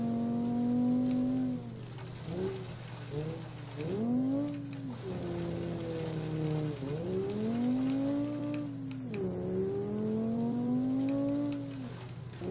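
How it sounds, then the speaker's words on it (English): An inline-five engine in a BeamNG.Drive gravel hillclimb car revs up and down repeatedly, with rising and falling pitch sweeps over a steady drone, loud and close with no talk. "Kinda wish the inline 5 sounded better in Beam from Automation."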